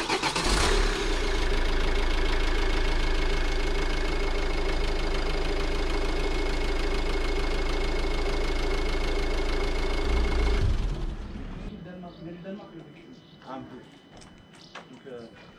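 A Renault 1.9 dCi diesel engine starts and idles loudly and steadily with a close, even diesel clatter for about eleven seconds, then cuts off, leaving faint background sounds.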